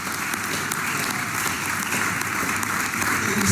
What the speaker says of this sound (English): Keep clapping to reach the stage.